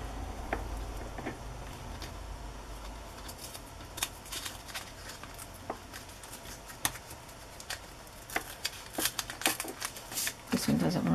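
Paper pages being torn and pulled out of a textbook for ephemera crafting, giving a quiet stretch of scattered crackles and rips that thicken toward the end, close and soft, with no talking over it.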